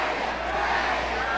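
Capacity crowd at a wrestling event, a steady wash of cheering and roaring that holds at a constant level throughout, with a commentator speaking over it.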